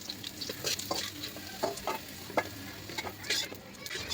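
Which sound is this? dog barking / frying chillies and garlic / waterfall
frying chillies and garlic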